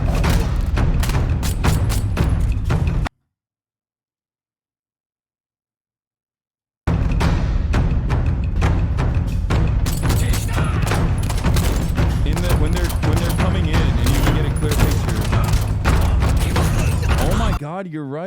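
Dense rapid gunfire from a Chinese shooter video game roars in sustained loud bursts, cut by a sudden silent gap of a few seconds before the shooting resumes and runs on to the end.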